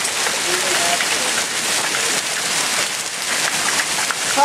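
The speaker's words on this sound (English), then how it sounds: "Look at the hail just pouring from the gutters." A hailstorm in Vestal with hail pouring from gutters, a loud dense roar of ice and water hitting surfaces close by, steady throughout with a faint voice near the end.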